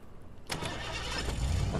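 Car engine driving in Fortnite: quiet at first, then the motor kicks in abruptly and keeps running with a steady, mid-pitched rumble that builds slightly in loudness.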